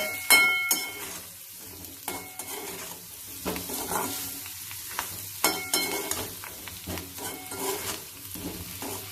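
Spiced baby potatoes coated in salt, turmeric and chili powder fry in a pan while a spoon stirs them, giving repeated scraping strokes and clinks over a continuous close sizzle.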